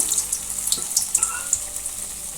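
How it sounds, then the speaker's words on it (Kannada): Urad dal vada batter fries in hot oil for hotel-style medu vada, a soft continuous hiss with small rapid crackling pops, close and moderately quiet, with no voices. "ಎಣ್ಣೆ ಕಾದಿದೆ ಹಾಕ್ತಾ ಇದ್ದೀನಿ"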